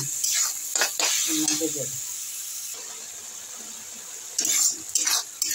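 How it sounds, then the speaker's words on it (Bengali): Spice paste cooking with water in a pan, loud bursts of sizzling and a spoon stirring and scraping against the metal, with a voice talking in between. "জল দিয়ে মশলাটাকে কষাবো।"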